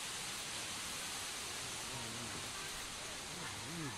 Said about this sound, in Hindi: यह तामर गुमर की झरना देख रहे हैं